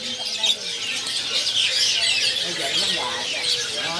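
Perkutut zebra doves and other caged birds fill a bird seller's kiosk with a busy, overlapping mix of high chirps and softer low warbling calls that runs continuously at moderate distance.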